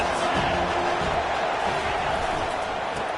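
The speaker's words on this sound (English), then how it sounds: "This crowd trying to make life miserable for this offense." Stadium crowd at a college football game between USC and Tennessee, a dense continuous roar of many voices filling the whole stretch, steady and loud with no single voice standing out.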